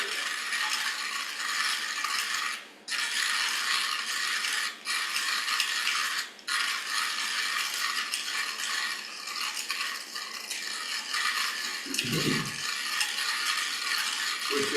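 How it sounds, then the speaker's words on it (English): Coffee beans from JBC Coffee Roasters crunch through a grinder in a continuous ratcheting, gritty rattle, close and fairly loud, broken by a few brief pauses and a dull low thump near the end. "So how do we grind our coffee beans?"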